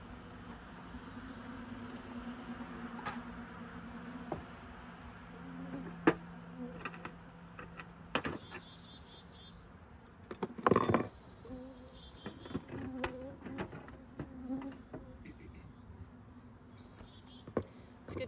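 Honey bees buzzing around an open hive during a subarctic beekeeper's inspection, a soft steady hum of insects with occasional closer buzzing passes and faint bird chirps in the background, outdoors and fairly quiet.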